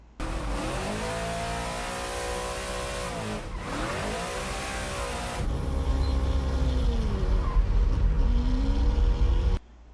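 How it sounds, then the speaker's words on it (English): An all-wheel drive car drifts in a Forza racing game, its engine revving hard with rising and falling pitch sweeps, tires squealing, then growing louder and rougher before cutting off abruptly. "he's a professional at drifting with all-wheel drive cars"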